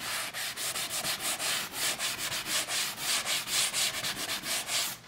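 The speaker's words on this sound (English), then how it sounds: "you just give this little edge here a quick sand." Sandpaper rubs back and forth along the edge of a wall where door trim was removed, a rapid run of short, even scratchy strokes, close and loud with no voices.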